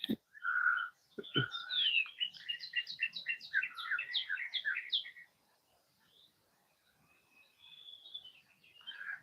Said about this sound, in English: Are you guys catching these birds flying by?